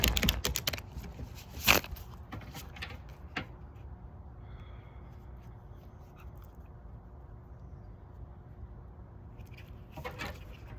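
A deck of tarot reading cards is shuffled close by, a few quick riffling and tapping bursts at the start and end, with quiet room tone between and no talking.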